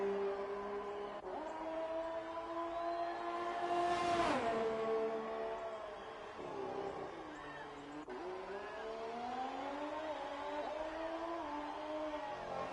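A race car engine in a sim racing video game at the Australian GP, with a steady, moderately loud droning whine whose pitch rises and falls through gear changes, plus a brief whooshing surge partway through.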